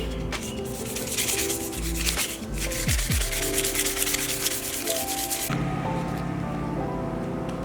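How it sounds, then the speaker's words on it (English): A carbon fiber mirror cap is sanded by hand with 400 grit sandpaper, giving a steady, close, scratchy rubbing of repeated back-and-forth strokes with no talking. "I'm gonna go ahead and sand the whole mirror cap in 400 grit"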